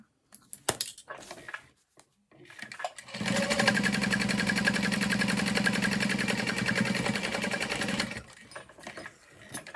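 A sewing machine stitches a crossbody bag flap in one continuous loud run lasting several seconds, preceded by brief handling clicks and followed by a quick stop.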